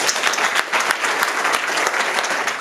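Wedding guests break into a short, dense burst of applause, steady clapping from many hands close by.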